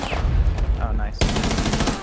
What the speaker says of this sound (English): That was effectively a blind fire